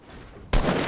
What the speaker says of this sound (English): He is shooting bullets at me with a scoped AR